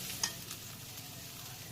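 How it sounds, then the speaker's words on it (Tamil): Carrots being sautéed in ghee: a soft, steady sizzle with faint stirring scrapes, close but quiet, with no voices. "ஒரு 3 நிமிஷத்துக்கு நல்லா ட்ரையாக வதக்கி விட்டுக்கோங்க நெய்யோட சேர்த்து."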